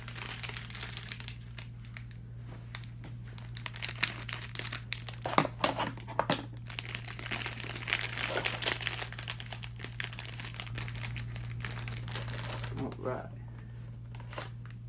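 Crinkly Hershey's Vampire Kisses candy wrappers being handled and cut open with scissors: close, irregular crackling and rustling with sharp snips, continuing for several seconds while a person talks.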